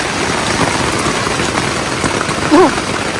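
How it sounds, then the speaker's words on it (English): Rain falls steadily on a hiking tent on the Appalachian Trail, a dense, constant patter that holds at the same level throughout, close and fairly loud. "It's been raining for about 10 minutes, and this is all the rain that's in my vestibule."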